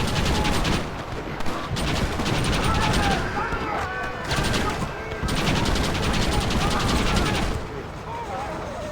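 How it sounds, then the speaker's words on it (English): Rapid gunfire from a crank-operated machine gun in the video game Red Dead Redemption, a loud, dense rattle of bursts running through nearly the whole stretch with brief lulls, with other game sounds and voices mixed in. "You just crank the damn gun and it dispenses justice."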